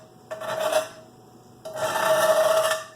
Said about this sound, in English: Scraping the pan.